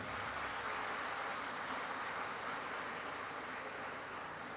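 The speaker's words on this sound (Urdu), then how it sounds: "اپنے ان اساتذہ کے لیے بھی زوردار تالی ہونی چاہیے" A graduation ceremony audience applauds its teachers with a dense, sustained wash of clapping that stays even and fairly distant throughout.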